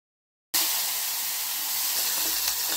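Turmeric sautéing in hot oil in a pot makes a steady, close hissing sizzle that starts abruptly after a brief silence and holds evenly, with no talk.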